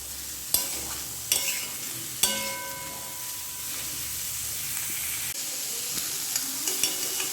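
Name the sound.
green chilies being stir-fried in a pan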